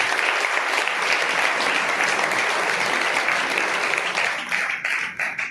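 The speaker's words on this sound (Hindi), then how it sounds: "तालियां बजाकर प्रभु धन्यवाद करें।" A church congregation claps to thank the Lord, a steady dense burst of many hands that thins into scattered claps toward the end.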